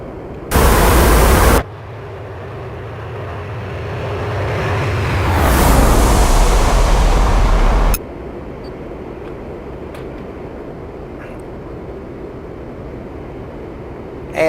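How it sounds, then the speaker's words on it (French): Military flight simulator jet with airbrakes and landing gear deploying: a loud broadband rushing roar that builds and swells, then cuts down abruptly to a steadier, quieter wind hiss, with a brief loud burst at the start and no talk. "Je sors les aérofreins, je sais pas si tu les entends. Je vais sortir le train d'atterrissage."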